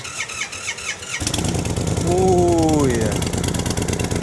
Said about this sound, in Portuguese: vamos cometer aqui uma pequena ilegalidade e ouvir o barulho desta moto